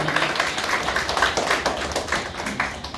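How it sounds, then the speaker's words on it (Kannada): Audience clapping at a Kannada Rajyotsava celebration event for a film team, a steady patter of many hands at moderate volume without pause. "ಅವ್ರಿಗೊಂದು ದೊಡ್ಡ ಚಪ್ಪಾಳೆ ಬರಲಿ"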